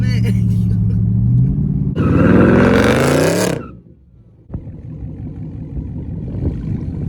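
Dodge Charger SRT8 V8 engine heard from inside the car, a loud rising roar under acceleration that cuts off abruptly, followed by a quieter idle rumble after a sharp knock, with people talking inside the cabin.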